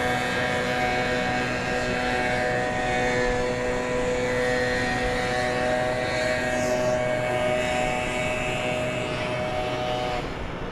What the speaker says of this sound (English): That would appear to be American Flight 2432, an Airbus A321 going to parts unknown.